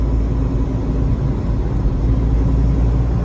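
Car engine running steadily in fifth gear, heard from inside the cabin as a loud, constant low rumble with road and wind noise and no change in pitch.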